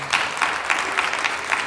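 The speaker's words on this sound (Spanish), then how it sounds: "¿Cuántos les dan un aplauso al Rey," A church congregation claps during a Shavuot service. The clapping comes in a steady, rhythmic beat of roughly four claps per second, moderately loud, with no talking.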